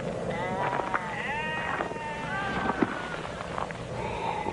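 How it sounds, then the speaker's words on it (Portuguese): A flock of about thirty sheep resting near a shepherd on warm ground bleat repeatedly, several overlapping calls near and far over a steady wind-like outdoor background. "Cerca de 30 ovelhas descansavam perto dele,"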